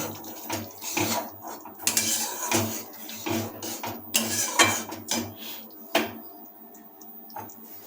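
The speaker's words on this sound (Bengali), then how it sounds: "টক দই যোগ করেছি সেটাকে ভালোভাবে খুন্তি দিয়ে নাড়িয়ে নেব" A spatula stirs yogurt gravy for a Bengali doi fish curry in a pan, making repeated close metallic clanks and scrapes with wet, sloshing texture in an irregular rhythm.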